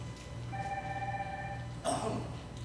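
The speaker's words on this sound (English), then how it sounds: "Be silent your phone, please" A mobile phone rings during a Lenten recollection talk, a steady electronic tone lasting over a second, fairly faint in a quiet hall, followed by a short burst of noise.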